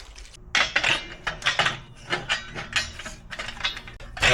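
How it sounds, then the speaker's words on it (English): Metallic ratcheting and clinks of a wrench tightening Akrapovic exhaust bolts on a Yamaha R1, close and irregular bursts of clicking with brief pauses. "Right, that's them tightened up."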